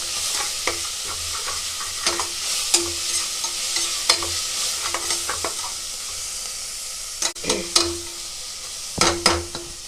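Ginger garlic paste sizzling in a pan with mint and coriander for vegetable rice, stirred with irregular scraping and clanking strokes over a steady close frying hiss.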